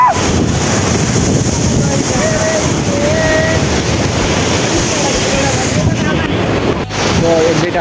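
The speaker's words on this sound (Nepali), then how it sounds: "वाह बल हावा चल्यो" Strong wind on a hilltop at a temple buffets the microphone in a loud, continuous roar that drops briefly near the end, with a voice faintly audible beneath it.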